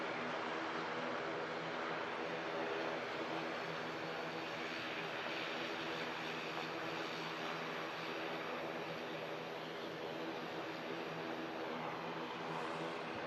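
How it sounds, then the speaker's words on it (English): An ATR 72 turboprop airliner on approach gives a steady, broad engine drone with a low humming tone, moderately distant and unchanging for the whole stretch, with no talk over it. "ATR 72."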